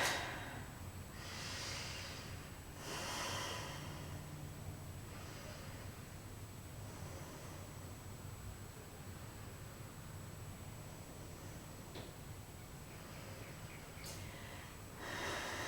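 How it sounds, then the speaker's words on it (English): Slow deep breaths during a yoga bridge pose, several soft airy inhales and exhales spaced apart, faint and close against quiet background hiss, no talk. "We're going to take about 4 or 5 breaths here."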